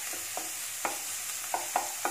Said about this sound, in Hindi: मीडियम फ्लेम पे फ्राई कर देते हैं